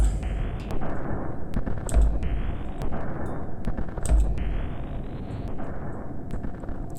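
Projectile firing effect in a video game demo: repeated sharp bursts about every two seconds, each followed by a rising whistling tone over a dense rumbling background, fairly loud with no speech.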